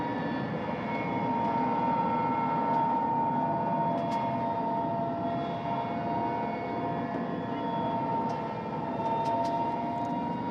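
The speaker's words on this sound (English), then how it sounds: "this is a troop-carrying helicopter coming in with its payload of parachutes" A troop-carrying military helicopter arrives during the war in Ukraine, its steady engine and rotor drone loud and continuous throughout with no pauses, with no talk over it.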